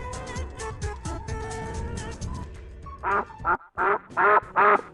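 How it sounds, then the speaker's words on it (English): Loud, close duck quacks arrive in a rapid run of about five harsh calls near the end, following a stretch of mixed bird chatter and chirping. "Duck and their kids, little ducks."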